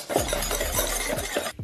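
Coconut milk, sugar and defrosted raspberries are mixed in a bowl for a mochi ice cream filling, giving a series of close, quick stirring scrapes and soft clinks of a utensil against the dish, with no talking.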